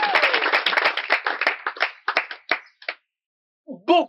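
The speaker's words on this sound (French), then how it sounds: "Un tonnerre d'applaudissements pour elle." Audience clapping at a ceremony where scholarships are being announced, a dense burst of hand claps that thins into scattered claps and fades out, followed by a short vocal sound at the end.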